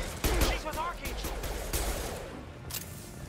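Gunfire in the sci-fi shooter Mass Effect 2, a burst of rapid shots up front followed by scattered bangs, with game voices and other sounds underneath.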